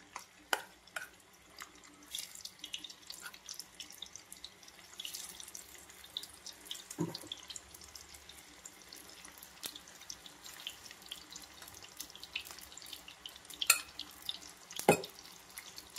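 Marinated chicken 65 pieces deep-frying in hot oil, a faint continuous sizzle and bubbling with occasional sharp pops and clinks of utensils, low and steady throughout.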